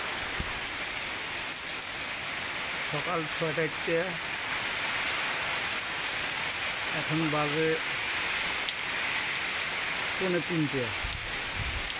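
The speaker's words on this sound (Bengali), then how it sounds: "সারাদিন প্রচণ্ড বৃষ্টি হচ্ছে, প্রচুর পরিমাণ বৃষ্টি হচ্ছে" Heavy rain in strong wind pours down in a steady, dense hiss that fills the whole stretch, with someone speaking briefly over it several times.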